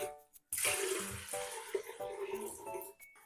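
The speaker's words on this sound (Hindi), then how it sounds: "अब हम इसके अंदर पानी ऐड करेंगे।" Water, about two litres, is poured into a pot of washed masoor lentils, a splashing rush that starts abruptly and runs steadily for a few seconds, close by.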